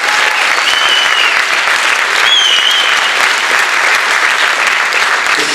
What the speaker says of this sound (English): Can we have a round of applause for members of the FSU Orchestra?